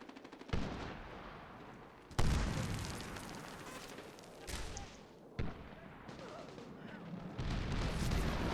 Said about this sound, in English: Again, I'm flashbanging the wall.